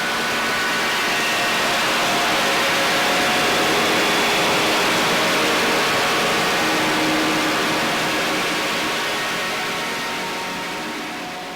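An electric guitar played through a full chain of pedals produces a loud, continuous wall of noisy, smeared sound with sliding pick scrapes and faint sustained tones, steady throughout before easing slightly at the end.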